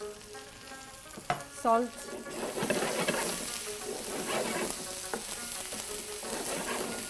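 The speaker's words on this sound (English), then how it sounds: "So it's right now it's sautéed onions, brown onions, ginger garlic paste, and tomatoes" Onions, ginger garlic paste and tomatoes sauté in a pan with a steady sizzle and scrapes of stirring, under a short spoken word near the start.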